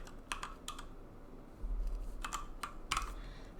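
Code being typed on a computer keyboard, a few sparse clustered keystrokes, close and clear, with pauses between them and a low rumble of room noise rising midway; no one speaks.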